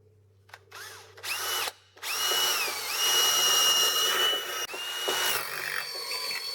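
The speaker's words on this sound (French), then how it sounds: "perçage à 5 pour tarot M6." Power drill boring a 5 mm hole through a flat steel bar for an M6 tap, a loud steady whine with brief starts and stops, then sustained drilling close up with no talk.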